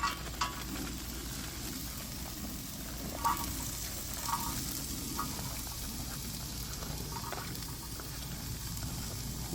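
Carrots and onions fry in oil outdoors at McKinney Falls State Park for Spam fried rice, a soft, steady sizzle with a few faint clinks and stirring taps, quiet and without speech.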